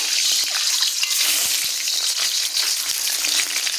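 Eggs fry in hot oil with a loud, constant hiss and crackle, close by and unbroken, with a few faint clicks underneath.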